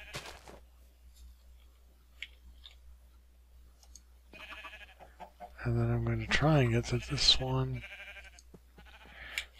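A sheep in Minecraft bleats in a few short game calls partway through, while someone talks over it and soft clicks and ticks sound in the background.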